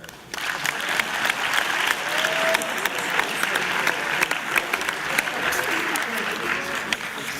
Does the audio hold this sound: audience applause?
yes